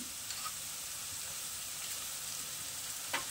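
Chopped ginger fries in hot oil with chopped garlic and onion for a garlic fenugreek dish, giving a steady close sizzle with a few faint utensil clicks and no talking.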